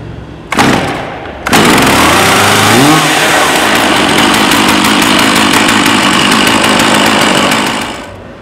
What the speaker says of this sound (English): now we'll pull the saw and it should start over relatively quickly